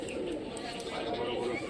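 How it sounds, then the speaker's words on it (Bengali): A pigeon coos in a loose loft of Rajshahi local flying pigeons, soft throaty calls close by under a dense murmur of other birds. "এই কবুতরটা খুব সুন্দর খেল,"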